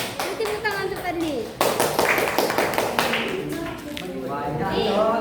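Students in a classroom break into a short burst of clapping during a teaching-practice lesson, with talking before and after it.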